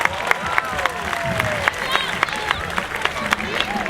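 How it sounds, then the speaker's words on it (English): Audience applause and scattered cheers for a tiger named Kismet at a tiger show at Six Flags Discovery Kingdom, a crowd clapping steadily under a presenter's amplified voice. "how about a big round of applause for Kismet"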